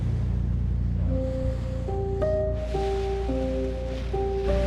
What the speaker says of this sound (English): In the middle of the ocean.